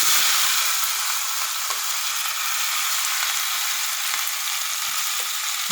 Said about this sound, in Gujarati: જીરું આપણું થોડું ફૂટે, આપણું તેલમાં જીરું સરસ આવી ગઈ છે.